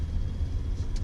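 A car passing on a backed-up beach road in traffic, a low steady engine rumble close by, brief and without voices.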